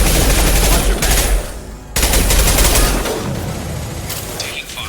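Sustained automatic gunfire in the video game Mass Effect 2, loud and dense bursts with a brief lull mid-way before the shooting resumes, then tapering slightly, with game combat effects layered underneath.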